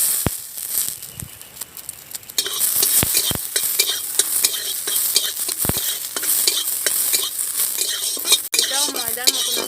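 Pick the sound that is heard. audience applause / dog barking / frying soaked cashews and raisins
frying soaked cashews and raisins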